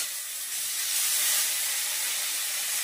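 Chopped garlic, onion and ginger go into hot tempering oil for khichuri, and a loud steady hiss swells and holds, close and unbroken, with no voices.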